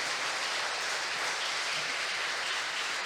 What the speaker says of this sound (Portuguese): pegar as suas duas mãos e aplaudir o Rei dos Reis nessa noite